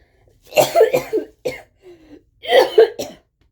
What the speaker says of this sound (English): I don't know what got me coughing